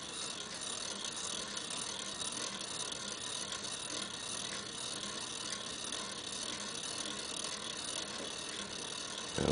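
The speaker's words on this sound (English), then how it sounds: "Now we can see that the mechanism is slowly advancing along the coat hanger rail." A homopolar motor mechanism creeps along a coat hanger wire rail, giving a continuous faint rattling, ratchet-like whir at an even level throughout, with no talking.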